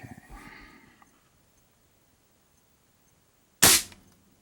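An Artemis CR600W air rifle fires a pellet through a chronograph: a single sharp, loud crack after a few quiet seconds, preceded by a faint murmur.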